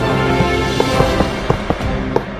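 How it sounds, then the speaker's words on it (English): Fireworks launching in Minecraft, a series of short pops and crackles at irregular intervals over a steady background hum, fairly close and moderately loud. "Let's have fireworks go off when Mikey enters the room."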